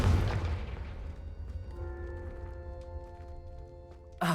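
A Confringo fire spell in the Hogwarts Legacy video game goes off with a loud, low boom that rolls into a fading rumble, followed by sustained tonal ringing and a sharp burst at the very end.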